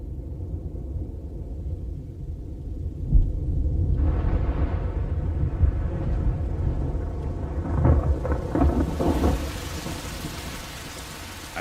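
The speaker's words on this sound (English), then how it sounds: "On the Masai Mara, the storms of October approach." Loud rain pours down on the Masai Mara while deep thunder rumbles and rolls through, swelling midway into a heavy, crackling downpour.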